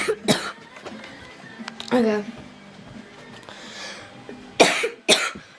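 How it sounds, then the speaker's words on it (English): Several sharp coughs from a person with a cold, one near the start, one mid-way and a pair near the end, with brief speech between them. "I'm working with a cold and a cough."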